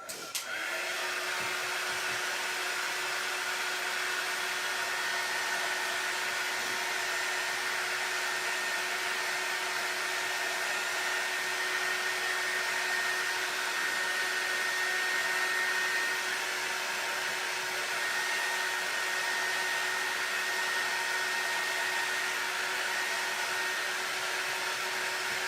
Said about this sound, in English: Let me grab my little heating gun.